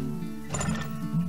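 A horse whinnies briefly in the oil-drilling strategy game Turmoil, a short, close neigh with a wavering pitch over a low background hum.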